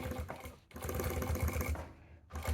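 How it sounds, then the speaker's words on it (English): A sewing machine stitches a bikepacking frame bag in close, rapid bursts of mechanical clatter, pausing briefly between runs. "and then you just stitch it together"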